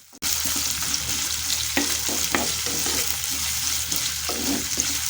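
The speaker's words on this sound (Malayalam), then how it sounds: "ഇനി അത് നമുക്ക് നന്നായിട്ടൊന്ന് ഇളക്കി കൊടുക്കാം." Sliced onions sizzle in a pan for a sardine chili curry while a utensil stirs them, scraping in a few distinct strokes over a steady close frying hiss, with no talking.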